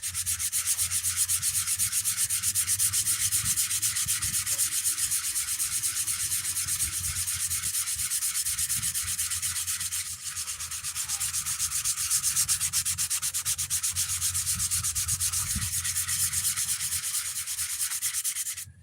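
A new Scout helmet being hand-sanded with purple 3M sandpaper, a steady, loud, continuous rasping rub close up, with a brief dip midway and no voices.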